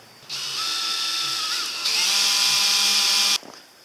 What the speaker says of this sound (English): What I'm going to do first is drill some little pilot holes where I screw it in.